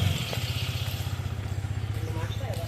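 A motorcycle engine putters nearby at low revs with a rapid, even, throbbing pulse that holds steady throughout.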